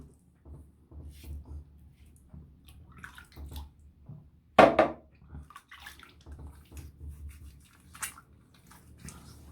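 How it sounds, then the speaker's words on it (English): A wet hand is splashed and rubbed with water after a shave, soft sloshing and dripping sounds with one sharper splash midway, close and fairly quiet. "I'm just wetting the hand and spreading around that residual slickness that's still on the skin"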